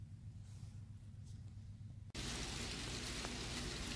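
Hail falling on the first day of summer near Yellowstone, a quiet low rumble for about two seconds, then a sudden loud, dense, steady hiss of pattering ice for the rest.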